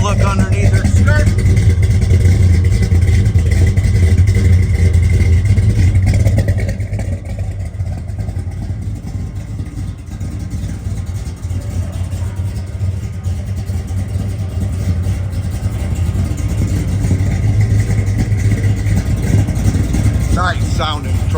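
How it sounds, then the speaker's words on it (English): A 1969 Chevrolet C/K 10 truck engine idles and revs with a deep, steady rumble, dipping slightly midway before building again, loud and near throughout, with a voice occasionally speaking over it. "Nice sounding truck."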